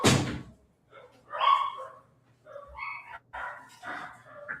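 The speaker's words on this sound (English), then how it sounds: "Damn dogs." Dogs bark in short separated bursts, moderately near, with gaps of quiet between calls and a low background hum.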